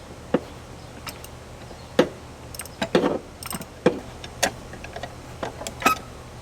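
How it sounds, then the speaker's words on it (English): Sharp clicks and ticks come from a ratchet loosening screws at the bottom of the accelerator pedal position sensor in a 2005 Honda Accord, irregular and close over a quiet hum, with some light clattering. "I was able to stick the ratchet thingy down here, and I was able to get the screws off the bottom."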